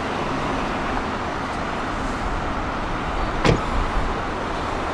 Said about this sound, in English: the mirrors will automatically fold out.